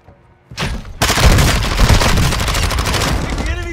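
Heavy gunfire in the Warzone 2 battle royale game, a loud, dense barrage of rapid shots and booms that erupts after a brief lull and keeps going without a break.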